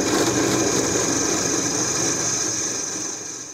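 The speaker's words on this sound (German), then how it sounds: "dann lege ich mal los und bohre das Ding." Drill steadily boring holes into a knife workpiece held in a drilling jig, giving a continuous high whirring drone that fades slightly toward the end, with no talking.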